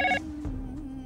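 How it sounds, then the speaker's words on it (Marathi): A telephone rings in a brief burst of electronic tone that stops after a fraction of a second, followed by a low steady hum and a soft knock indoors. "फोन वाजतोय, फोन घे ना."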